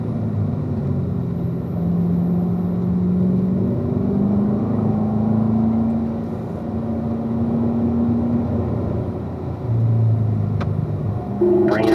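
Car accelerating out of a turn on a race track at a Spring Mountain session, a sustained loud engine drone with rising tones as it pulls through the gears, heard from inside the cabin.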